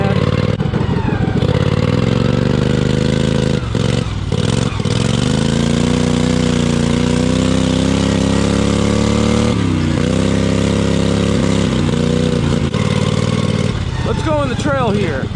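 A homemade race mower's small engine runs loud and steady throughout, its pitch rising and falling as the throttle is worked, with a few brief revs near the end and someone talking over it.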